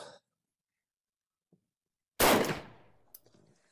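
A single sharp, loud shot from a Vepr shotgun fired at 40 metres, with a short fading echo, preceded by near silence and a faint distant tick.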